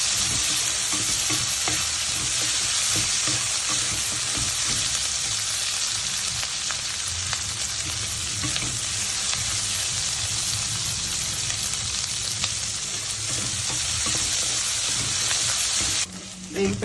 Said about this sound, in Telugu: దీంట్లోనే కొంచెం పల్లీలు, వేయించిన పల్లీలు వేసి వేయించుకోవాలి.